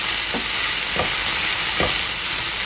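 Sliced vegetables for veggie fajitas sizzle steadily in a hot pan, with three soft scraping stirs breaking the constant close frying hiss.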